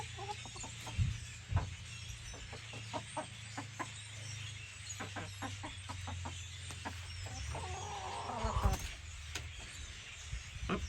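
Hens cluck in short scattered bursts close by, with a faint low drone beneath and some rustling near the end.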